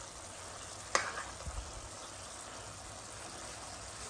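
Ingredients for rougail boudin noir frying in a pan, a quiet steady sizzle with a single sharp clink and a brief soft stir near the start, all fairly faint and without any talking.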